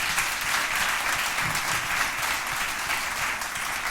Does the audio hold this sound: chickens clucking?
no